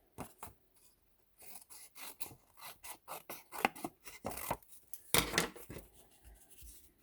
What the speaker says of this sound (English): I could trim it